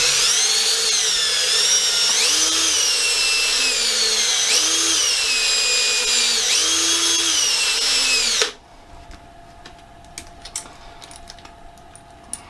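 An electric trimmer whines steadily while shortening rifle brass cases, its pitch dipping and rising with each case, then cutting off abruptly to leave faint clicks and handling taps.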